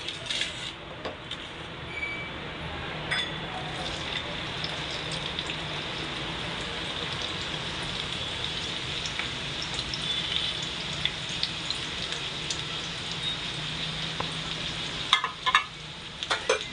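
Onion sautéing in hot oil for an egg half-fry, a steady close crackling sizzle throughout with occasional stirring clinks, louder bursts near the end.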